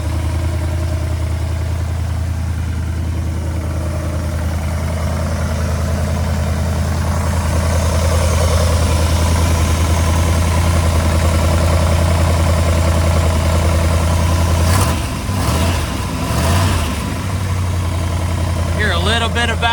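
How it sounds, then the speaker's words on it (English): A 1966 Pontiac Grand Prix V8, abandoned for eight years, idles after its first start, a steady loud low rumble with slight valve train ticking, while people talk near the end. "First start in 8 years, and it's sitting here idling."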